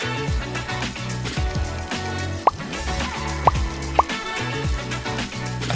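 Water poured into a pan while cooking a Bengali Charapona fish curry, a steady splashing, simmering wash with a few sharp drips and plops close by, no speech.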